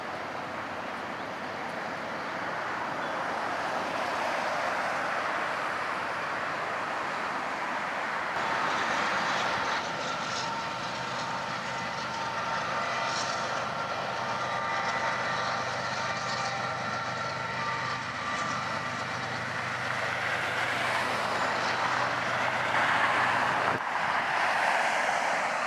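A BNSF manifest freight train rolls past at a distance, a steady broad rumble and rush of wheels lasting throughout, with faint squeals and clanks rising and falling and no speech.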